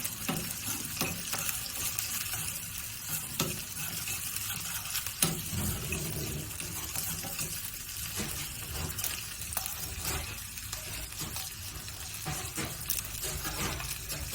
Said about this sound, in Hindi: 1 से 2 हरी मिर्च लिया है जिसको छोटा छोटा हमने काट लिया है। इसको हल्का सा फ्राई करना है